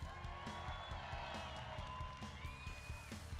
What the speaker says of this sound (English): Wow, if you can applaud them like that during the fight